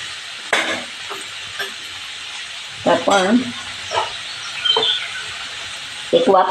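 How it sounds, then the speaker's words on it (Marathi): Cluster beans being stir-fried in a pressure cooker give a close sizzle, broken by several sharp bursts of a spatula scraping and stirring against the metal pot. "कुकरमध्ये नेहमी परतताना व्यवस्थित परतून द्यावं"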